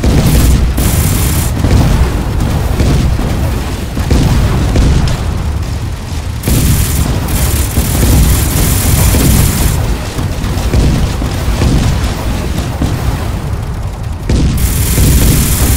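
Dense, loud gunfire and booming explosions from a player-versus-player battle in the video game Radia, a continuous barrage with brief drops between blasts and no talking.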